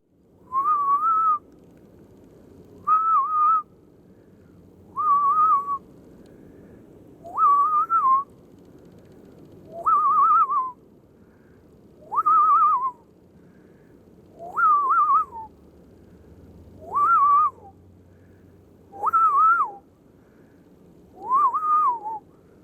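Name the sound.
person imitating a raccoon call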